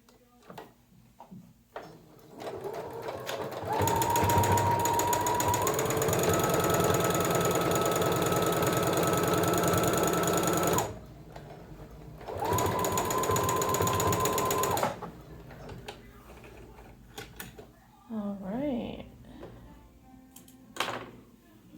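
A sewing machine stitches fabric slipper back pieces together in two long runs, a steady whirring mechanical hum with a rising motor pitch, a pause between them, then quieter handling of the fabric.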